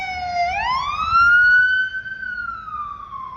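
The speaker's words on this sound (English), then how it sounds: "1 second, the ambulance is passing." A loud ambulance siren wails close by, its pitch sweeping down then climbing and holding high as the vehicle passes.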